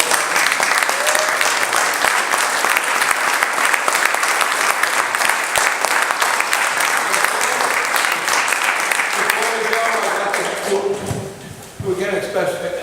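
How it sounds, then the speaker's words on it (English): An audience claps loudly and steadily at a Rockport selectmen's debate, a dense wash of applause that thins and fades near the end as a voice starts to speak. "Now, how about a round of applause?"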